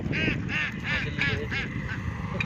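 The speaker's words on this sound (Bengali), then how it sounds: "হাঁস পা দৌড়িয়ে চলেছে" Ducks beside a fishing pond give a run of about six loud, nasal honking quacks in a steady rhythm, close by over a rumbling outdoor background.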